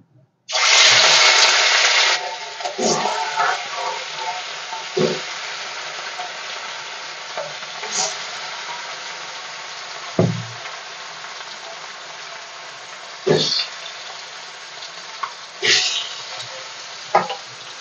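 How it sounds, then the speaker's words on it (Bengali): Fish drops into hot mustard oil in a wok with a loud burst of sizzling, which settles into a steady hiss broken by occasional clinks and spatters. "এবার আমি মাছগুলোকে ভেজে নেব।"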